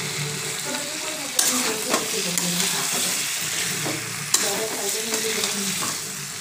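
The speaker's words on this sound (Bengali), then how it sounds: "এখন মাংসটা রান্না করে নিই" Mutton sizzles in a pan as it is stirred, a continuous frying hiss broken by a few sharp scrapes and clinks of the utensil against the pan.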